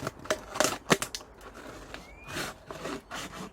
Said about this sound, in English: you've got to carefully stab it with your scissors